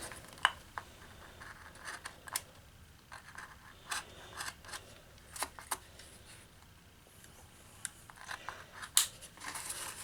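Scissors trimming a small homemade gasket, soft close snips and faint scraping ticks spaced irregularly over quiet background.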